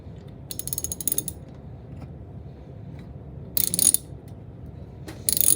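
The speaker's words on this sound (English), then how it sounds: "take your 5/16 socket and we're going to tighten this down" A ratchet with a 5/16 socket tightens a pipe repair clamp, giving three close bursts of rapid clicking separated by quiet pauses.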